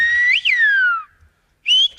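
A person whistling at a whistling workshop in Mumbai, loud, clear high tones with rising and falling glides, a long sweeping note, a brief pause, then another short bright phrase.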